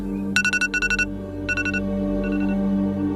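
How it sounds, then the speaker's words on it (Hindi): A phone rings with rapid electronic trilling bursts, three loud pulses then a fainter one, over a steady low hum. "उसकी आंखें स्क्रीन पर टिकी थी जब अचानक उसके फोन की घंटी बजी।"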